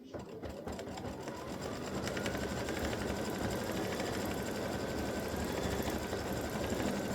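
An embroidery machine stitches a design for an in-the-hoop triple-stand boo display, a steady, fast mechanical whir and needle rattle running without pause at close range.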